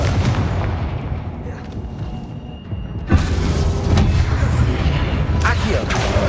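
A Confringo fire spell blasts in Hogwarts Legacy, a sharp explosive boom near the middle over an ongoing rumble of in-game combat noise.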